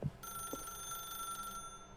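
A telephone rings continuously with a bright, sustained electronic trill, close and steady for over a second, bracketed by a couple of faint knocks and a short vocal murmur at the start.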